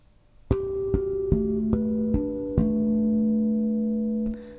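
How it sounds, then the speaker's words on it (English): Six bell-like bass guitar harmonics ring out one after another, each sustaining and overlapping into a slow, gentle melodic phrase, solo and close. "the line opens with a short melodic statement that's played as a series of harmonics"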